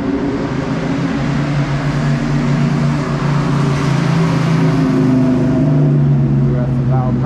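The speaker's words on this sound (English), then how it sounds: "We got some loud cars." Loud car engines drone past on a downtown San Francisco street on a Sunday afternoon, a steady, continuous rumble that stays close throughout, with talking mixed in under the traffic.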